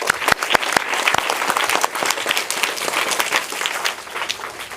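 An audience at a school environmental program applauds students, a dense burst of many hands clapping close and loud for several seconds, steady then thinning slightly toward the end.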